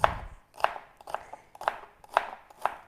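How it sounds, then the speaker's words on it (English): Knife slicing through shallots on a board for a pizza potato bake, six crisp evenly spaced chops about half a second apart, close and clear. "Just slicing the shallots."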